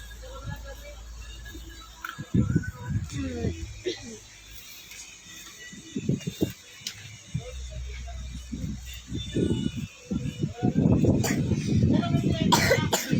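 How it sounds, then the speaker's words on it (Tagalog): Several short coughs from a child come in scattered bursts, interspersed with talking and background noise. "inuubo na siya"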